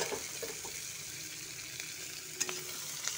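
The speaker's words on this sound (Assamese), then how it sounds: "এতিয়া দি দিছোঁ কাটি ৰখা পিঁয়াজখিনি" Chopped onions frying in hot oil with panch phoron in a pan while cooking egg curry, a steady soft sizzle with a few faint clinks, no talk.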